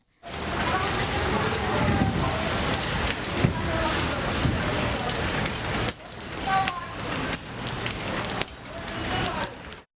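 Heavy rain pouring down in Kolkata before Durga Puja, a dense, loud, continuous hiss of downpour with sharp splashes and knocks breaking through.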